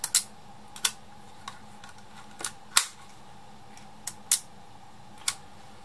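An Agfa Silette camera's shutter release fires in a series of sharp, quiet clicks at irregular intervals, close up in a still room.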